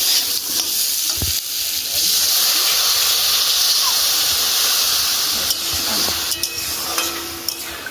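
Water poured into a hot pan in a village kitchen bursts into a loud, sustained steamy hiss that rolls on for several seconds, with a few clatters of utensils near the end.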